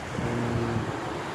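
Seaside waves wash in a continuous broad rumble with wind buffeting the microphone, a short low tonal hum rising briefly in the middle, no talking.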